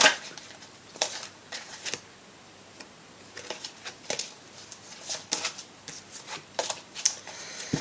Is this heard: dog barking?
no